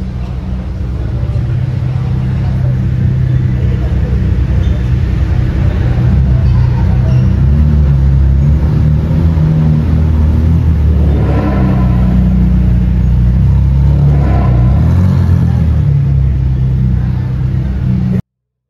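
Exotic sports cars, including a McLaren, Audi, Ferrari, Lamborghini and Porsche, drive past with deep continuous engine rumble and revving at night in Mexico, loud and sustained throughout.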